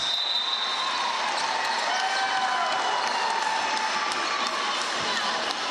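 A basketball crowd cheers at a women's Tauihi league game between Mainland Pouākai and Tokomanawa Queens, a steady loud roar of whoops and shouting sustained throughout with no break.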